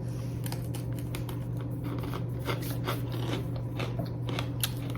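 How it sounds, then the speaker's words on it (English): Close, crisp crunching from biting into a survival-food freeze-dried ice cream sandwich, with repeated brittle snaps over a steady background hum and no talk. "It's like a very crunchy ice cream sandwich."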